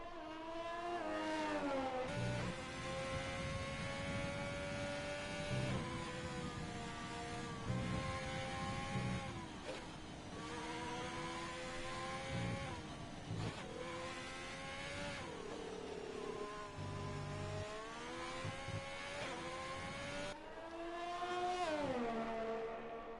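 F1 race car on a flying lap at the USA Grand Prix in a racing video game, on medium tyres; a loud, continuous high-revving engine whine climbs through the gears, dipping briefly on upshifts and braking before surging again.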